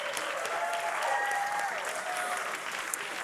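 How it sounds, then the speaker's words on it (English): Steady applause from an audience at an evening arts and healing festival, a dense even patter of clapping that holds for a few seconds, with a faint whistle or tone drifting above it. "We should give a big round of applause because they let us stay late"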